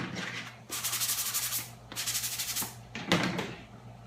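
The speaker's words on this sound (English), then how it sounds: "I'll sand them off on the inside so it's nice and flat" Rhythmic abrasive sanding strokes smoothing burrs off drilled holes, in a few bursts, a gritty scratching rub close by with brief pauses between passes.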